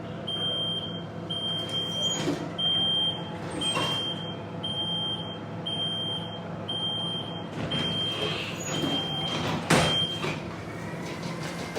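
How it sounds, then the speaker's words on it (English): An accessible ramp deploys from a bus at a Madrid stop, a repeating high electronic warning beep pulsing over the idling engine hum, with clunks and mechanical thuds as the ramp moves, close and fairly loud. "that was the accessible ramp"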